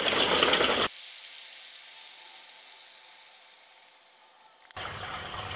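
Steady rushing well water fills an air injection rust filter tank with a constant hiss and low gurgle, bracketed by louder bursts of noise at the start and end.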